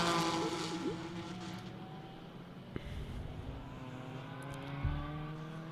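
Fast Porsche race cars at a member challenge race, heard as engine drones from a distance as they head into a braking zone, fairly faint with a brief thump midway.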